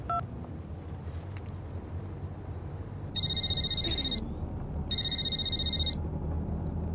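A telephone rings in two loud electronic bursts of about a second each, separated by a short pause, over a low steady room hum.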